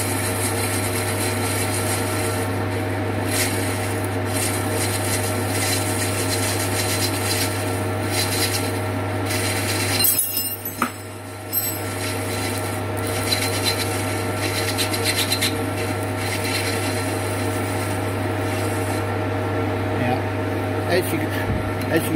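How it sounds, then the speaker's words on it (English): A lathe parting tool cuts off a washer, giving a steady scraping, rasping cut over a constant motor hum that runs throughout, with a brief break in the middle. "then I'll just go back and I'll just cut another washer"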